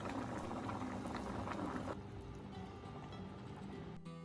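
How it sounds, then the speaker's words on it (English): Mung beans boiling in water in a lid-covered pot over high heat, a steady close bubbling rumble that drops slightly in level partway through and continues to the end. "Cover with a lid, turn the heat to high, and cook for about 5 minutes."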